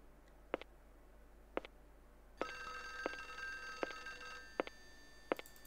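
In the Windows 95 release of the Clock Tower video game, a phone rings with bright, buzzy electronic trills. The bursts repeat at intervals over a faint steady hum, and the ringing continues to the end.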